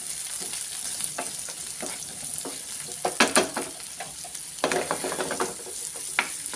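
Onions with curry leaves fry in a pan for a pumpkin masala, a soft steady sizzle broken by scraping stirs that come in clusters, loudest toward the middle and end.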